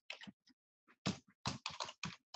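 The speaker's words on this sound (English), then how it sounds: "I'm just going to backspace all this." Computer keyboard typing with repeated backspace presses: clusters of quick, close clicks in short irregular bursts, separated by brief gaps, with no talking.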